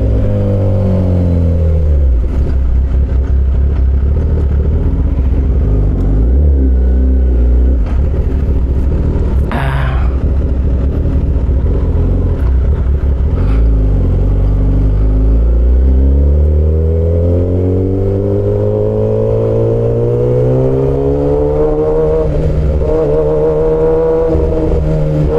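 A 1000cc motorcycle engine is held in first gear, loud and close. It revs up and down in long rising and falling sweeps, with a brief sharp clatter partway through. No voices are heard.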